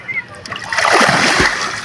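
Water splashing close by as someone swims in a river, a rushing surge of splashes with a deep slap near the end, mixed with voices talking.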